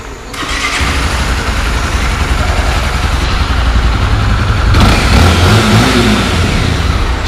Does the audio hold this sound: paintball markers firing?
no